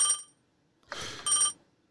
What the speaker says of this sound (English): The phone line is ringing.